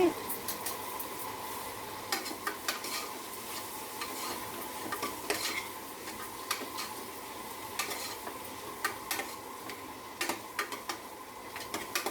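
Tomatoes softening in a hot pan while being stirred for a white kurma, giving a steady sizzle with scattered scraping and clinking of the utensil against the pan, close and continuous without talk.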